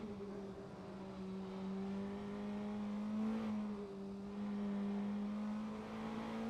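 Praga race car engine on a qualifying lap at Suzuka, a steady high-revving drone holding a fairly even pitch with slight rises, heard alone and close throughout.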